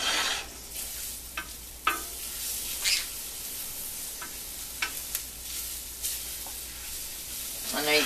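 Garlic crisping in a pan sizzles steadily with a soft frying hiss, broken by occasional sharper crackles and pops from the hot oil.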